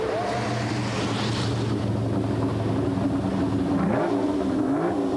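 A Ferrari 250 LM racing car on a classic road rally heading toward Carcassonne, its engine a steady, loud drone throughout with a rising pitch sweep near the end, heavy wind rush over the microphone.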